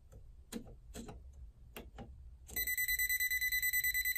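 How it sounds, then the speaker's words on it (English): Near the end, a non-contact voltage tester gives a rapid, regular series of high electronic beeps while detecting current at a wall switch. Several soft clicks and handling taps come first. "because it's beeping red, it's detecting current"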